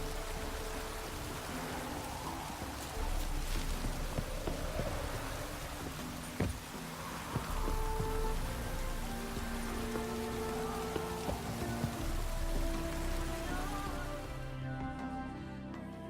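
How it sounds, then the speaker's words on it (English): Steady video game rain patters down, a dense hiss of drops on surfaces with a few louder splashes, continuous throughout. "No use doing any work in this rain."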